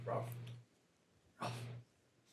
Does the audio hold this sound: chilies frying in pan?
no